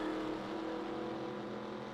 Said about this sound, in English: Austin Johns heading out pit road right now. Now that number 3 Reddit Honda Civic.